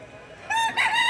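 Rooster crowing at a chicken market, one short crow rising out of low background noise, moderately loud and fairly close.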